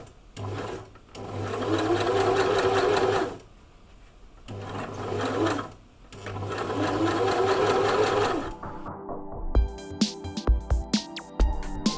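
A sewing machine stitches fabric for lavender bags in three steady, humming bursts with short pauses between, then gives way to scattered clicks and handling knocks.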